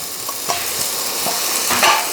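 Chopped broad beans stir and fry in tempering in a pan on an induction stove, giving a soft steady sizzle with a few scraping stirs, close by and without speech.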